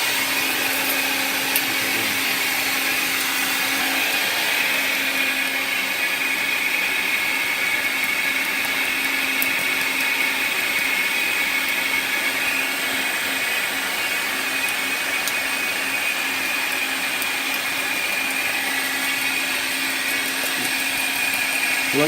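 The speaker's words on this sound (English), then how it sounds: "The magic bullet will cut itself off when it's kind of ready." Magic Bullet blender whirring through a kale drink, a steady high-pitched motor drone that runs loud and unbroken for the whole stretch, with no talk.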